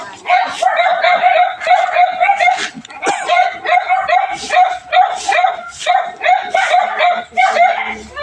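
Several dogs bark and yip repeatedly at close range, a steady run of sharp barks across the whole stretch, with people talking over and between them.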